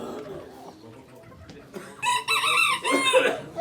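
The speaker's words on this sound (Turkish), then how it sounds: "Horoz ötüyor." A rooster crows loudly and close by in one long, wavering call at a poultry auction in Ankara, after a moment of muffled background murmur.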